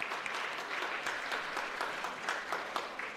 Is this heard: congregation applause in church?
yes